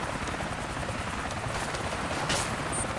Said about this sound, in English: I'm not hitting the helicopter.